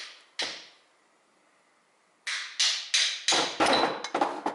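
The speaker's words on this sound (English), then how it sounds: "now I hammer that part away in that way" A hammer knocks a part off a Ford front axle driveshaft: one sharp metallic strike, a pause, then a quick run of about seven ringing blows, close and loud.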